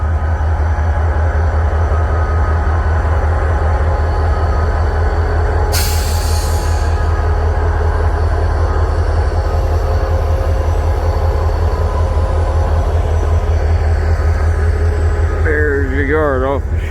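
Riding a freight train gondola car across the Ohio River brings a loud, unbroken low rumble and rattle of wheels on rails, with a sharp hiss near the middle, squealing wheels toward the end, and a voice talking briefly.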